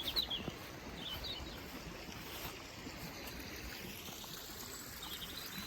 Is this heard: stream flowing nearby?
yes